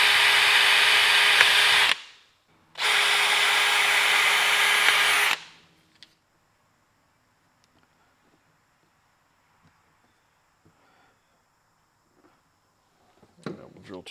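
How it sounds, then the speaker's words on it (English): Two loud bursts of a power drill whirring as it drills 1/4 inch holes in a tool storage box, separated by a short pause, followed by quiet handling noises and a brief voice at the end. "Drill in a 1/4 inch hole."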